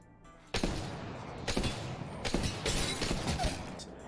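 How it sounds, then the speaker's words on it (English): Longbow marksman rifle shots in the video game Apex Legends: a string of loud, sharp reports roughly once a second over a dense, continuous wash of game noise. "you have the long shot right here, longbow"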